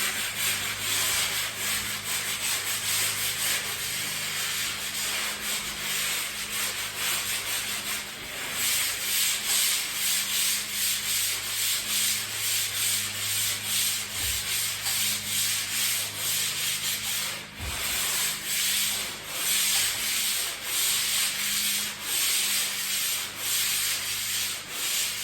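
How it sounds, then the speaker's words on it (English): A sanding block rubs over a patched wall where old light fixture holes were filled, making a steady, close, continuous rasping scrape with brief pauses and changes of stroke and no talking. "I just use the sanding block and I go around, I sand all the edges"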